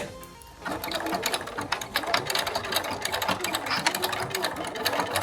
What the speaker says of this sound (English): we're going to sew along this edge and top stitch with 1/8 of an inch seam